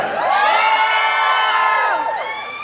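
A crowd cheering and whooping loudly for a few seconds, high excited voices blending into a sustained roar that tapers slightly at the end.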